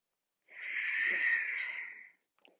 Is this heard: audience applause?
no